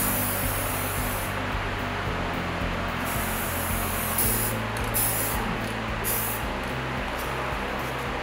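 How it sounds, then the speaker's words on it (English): A steady hiss of black spray paint from an aerosol can, sustained with brief pauses, close to the microphone over a low background hum. "looks like black spray paint"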